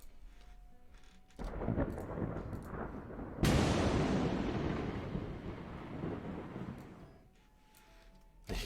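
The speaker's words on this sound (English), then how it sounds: "You can hear this thunder one here, doesn't fade out soon enough" A thunder sound effect made for a game rumbles in after a low lead-in, then breaks into a loud crack followed by a long rolling tail that slowly fades away.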